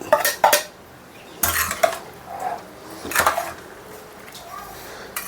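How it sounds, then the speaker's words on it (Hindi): A metal spoon scraping and clanking against a pan while masala is stirred on a gas stove for chole, several bursts of rattling strokes separated by short pauses, close and fairly loud. "गैस को ऑन करने के बाद अब इसको अच्छे से आपको चलाते रहना है"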